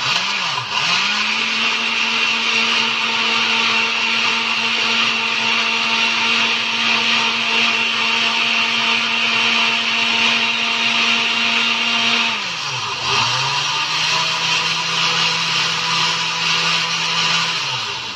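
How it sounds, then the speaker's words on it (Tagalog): A kitchen blender whirs loudly while mixing probiotic with water, a steady high motor drone that briefly dips and restarts around two-thirds through, then settles at a slightly lower pitch. "Blender natin siya."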